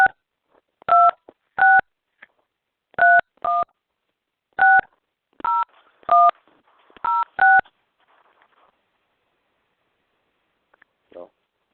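A telephone number keyed in on a touch-tone keypad: about ten crisp, loud dual-tone beeps in uneven bursts, followed by a near-silent pause and a faint click.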